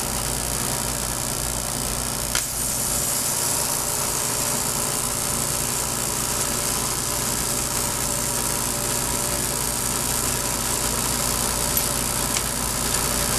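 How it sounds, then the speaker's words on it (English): A lathe holding a glass vacuum tube hums steadily nearby, a continuous motor drone with faint mechanical clicks and no talking. "I've got it back in the lathe"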